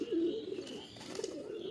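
Closed-tail tournament pigeons coo in a loft at Sankrail, Howrah, a low, rolling coo that rises and trails off, moderately faint and steady across the short stretch.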